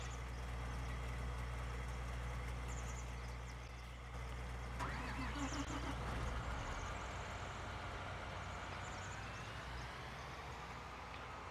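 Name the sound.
John Deere 7R tractor engine in Farming Simulator 2019 video game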